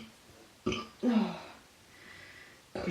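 Short voluntary burps from a pregnant woman easing reflux, two or three close eructations with gaps of quiet between them, heard alone without talk.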